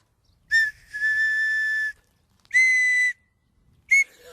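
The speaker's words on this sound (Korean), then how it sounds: "바로 정답은 호루라기였습니다" An unusually shaped whistle being blown in three shrill blasts: a short blast, then a long held one, a mid-length blast and a brief final toot, loud and close with silence between.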